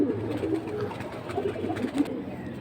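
Pigeons at a market stall coo in low repeated throaty calls, several birds close by over a soft background hum, no talk.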